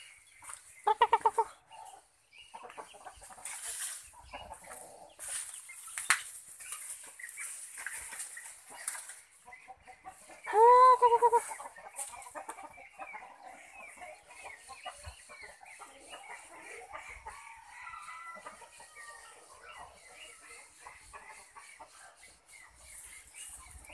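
Young chickens cluck and call in a farmyard, with scattered short clucks throughout and a louder, drawn-out call near the middle, all fairly close with no talking.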